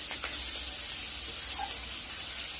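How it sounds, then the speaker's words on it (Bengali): Chopped tomato and spice masala with turmeric frying in a pan, a steady close sizzle and hiss running throughout with a few faint stirring clicks. "আমি টমেটো কুচি দিয়ে দিচ্ছি, ভালো করে কষিয়ে নেব মশলাটা।"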